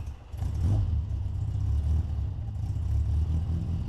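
A Bug-Eye Sprite's engine rumbles through a twin tip muffler on the road, a low throaty burble that swells and settles steadily while the car drives, close and continuous with no talk.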